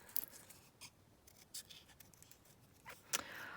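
Quiet scissors snip through card or paper while cutting out faux-front envelopes, giving several short, scattered crisp cuts with soft rustling between them.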